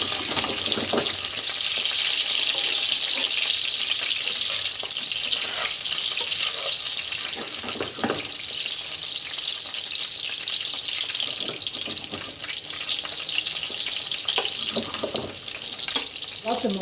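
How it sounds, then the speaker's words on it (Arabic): Mumbar, stuffed intestines, frying in hot oil in a home kitchen, giving a steady dense sizzle with bubbling throughout and occasional stirring clinks, loud and close with no talk. "خلاص الممبار اتحمر معايا زي ما انتم شايفين بقى"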